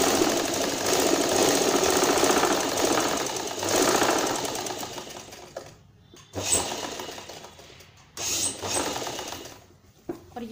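A sewing machine stitches a salwar in a long continuous run of several seconds, then several short stop-start bursts with clicks and knocks from the machine.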